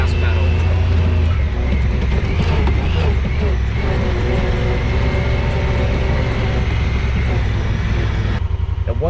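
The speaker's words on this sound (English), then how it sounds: "you can hear right there, it just shifted down to second, and right now it's all in automatic" A Honda Pioneer 1000-5 side-by-side's engine drones loudly and continuously under automatic control, with a shift in engine tone near the end as it drops to second gear. A voice is faintly audible over the running engine.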